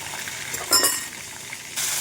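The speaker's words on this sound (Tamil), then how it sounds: "பாருங்கள், எண்ணெய் ஊற்றி கடுகு போட்டாச்சு, கொஞ்சம் வெந்தயம், அதில் கொஞ்சம் பெருங்காயம் போடுங்க" Mustard seeds, fenugreek and asafoetida sizzle in hot oil while tempering for a fish curry. The crackle is short and fairly loud, swelling into one bright burst midway, then settling to a steady hiss.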